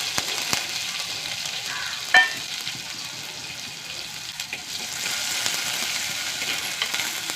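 Shallots and curry leaves fry in hot oil in a clay pot with a soft, steady crackling sizzle and one sharp clink partway through.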